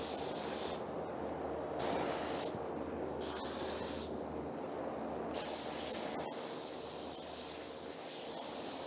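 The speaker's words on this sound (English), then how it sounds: "when I spray bumper covers, I like to do all of my edges first" A spray gun applies waterborne basecoat along the edges of a bumper cover. It gives a steady loud hiss in repeated bursts with short breaks between passes, close to the mic and with no talking.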